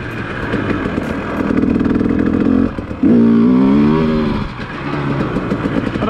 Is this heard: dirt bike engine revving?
yes